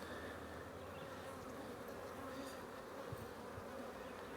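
Honeybees buzz steadily at an open hive during a sideliner beekeeping inspection, forming a dense, close, unbroken swarm drone with no talking.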